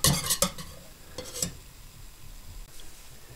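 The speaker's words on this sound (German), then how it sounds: "ab und zu mal umrühren, damit sich keine Haut bildet" A spoon stirs a cooling cake filling in a pot, starting with a few quick scraping strokes and knocks, then settling into softer, intermittent stirring and quiet clinks.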